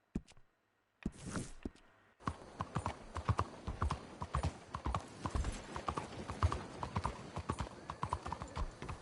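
Horse hooves in the Red Dead Redemption 2 video game, a loud, close clip-clop that starts after a short pause and then settles into a fast, steady galloping rhythm.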